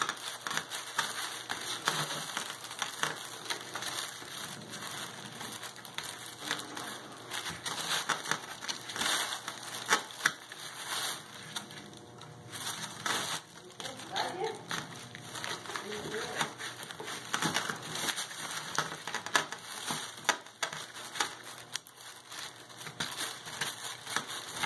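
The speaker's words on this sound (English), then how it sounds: "I'm just going to pry off this top area." Plaster mold pieces are pried and broken off a knitted glass casting, giving scattered crunching, cracking and scraping sounds through a long stretch while a person talks over the work.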